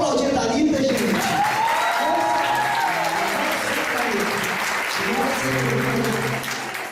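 An audience at a charismatic church seminar applauds a first-time visitor, steady, full clapping throughout while voices and singing tones carry along underneath, tapering slightly at the end.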